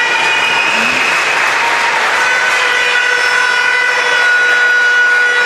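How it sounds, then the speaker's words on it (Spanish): Crowd applause fills a sports hall during a Spanish elite men's league match as the Copa del Rey champions are presented, a steady, dense clapping wash that runs loud throughout with no pause. "Ahí tenemos a la afición como responde con aplauso"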